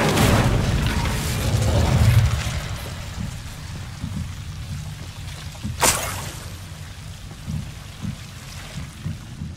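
A fire spell cast in Hogwarts Legacy erupts as a sudden loud burst, a single sharp whoosh rising over a steady rain-like roar and low rumbling game ambience.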